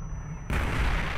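A cannon in the war game Brothers In Arms: Hell's Highway fires a heavy, booming shot after a low rumble, and the loud blast carries on into a dense, sustained roar.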